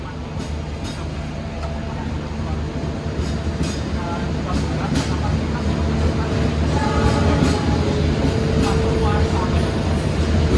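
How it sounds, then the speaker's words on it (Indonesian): Pandalungan passenger train pulling away from a station on an Indonesian railway, a steady loud rumble of wheels and rail noise with rhythmic clatter building throughout, with no talk over it. "Oke, kereta api Pandalungan sudah lepas."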